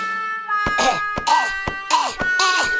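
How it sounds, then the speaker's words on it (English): A cartoon villain coughs in a run of harsh, raspy bursts, four or five loud hacks in quick succession with brief gaps between them. "On his feet again, Dr. Spooky coughs. Coughs more. And even more."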